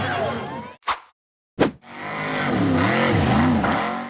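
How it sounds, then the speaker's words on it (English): Off-road buggy engine roaring loud and sustained as it climbs a near-vertical sand dune, with a surging, revving note after two brief sharp bursts and a short gap. "The buggy aggressively powered up the near vertical sand dune"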